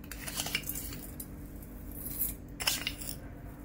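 A metal spoon clinks and scrapes against a dish while mixing cooked fine ambemohar rice with yogurt, salt and sugar, giving a series of close, irregular light metallic taps and scrapes without talk.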